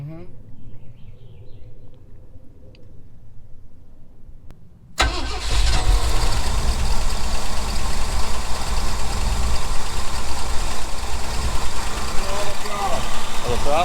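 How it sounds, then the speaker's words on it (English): A Ford F350 truck left unfinished for twenty years cranks and fires up halfway through, then idles loudly and roughly with a ticking valve train clatter running through the steady engine drone. "I hear some like valve train noise"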